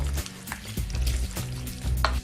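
A spoon stirs warm tomato sauce through sautéed vegetables in a pan, with soft wet scraping and a low sizzle in repeated strokes, close and moderately loud with no talking.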